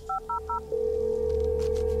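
Telephone keypad beeps as several touch-tone digits are dialed to reach voicemail, three short clear tones followed by a steady sustained tone, close and alone.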